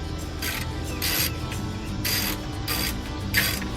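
A swivel seat base in a camper van build is turned into place, giving bursts of ratcheting mechanical clicks at close range with short pauses between them.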